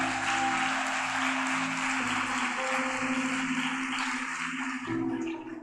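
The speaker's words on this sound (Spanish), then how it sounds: "vamos a darle un fuerte aplauso a Dios por la vida de todos estos jóvenes" Church congregation applause, a dense, continuous wash of clapping lasting several seconds over a sustained musical drone, with no talk on top.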